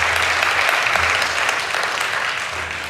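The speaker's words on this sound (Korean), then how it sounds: "우리 다 같이 한번 하나님께 영광의 박수를 올려드립니다." A church congregation at a late-night worship service claps together in praise, a loud, dense and steady wash of applause from many people filling the whole moment without talk.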